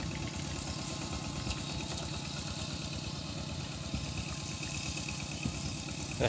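A tractor engine chugs steadily at close range, a continuous rumbling idle with a slight rhythmic knock and no voices.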